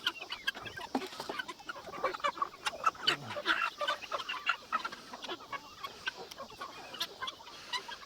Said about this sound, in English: These are going to be the chickens we are actually keeping